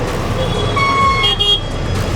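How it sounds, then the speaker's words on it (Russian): Cars stuck in a traffic jam in a busy Indian market, with several short horn toots and honks over a dense rumble of traffic and engines nearby. "Западня из машин."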